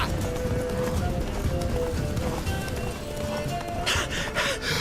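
A horse galloping in the video game The Witcher 3, rapid rhythmic hoofbeats running continuously under game music and a voice speaking, with a brief breathy burst near the end.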